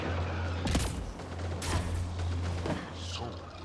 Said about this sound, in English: So many guns! Guns around every corner